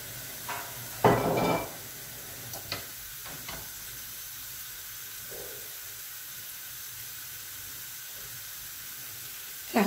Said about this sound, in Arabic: ونخليوها تبخ مع هاد الورقة الغار ومع هاد الروزمارين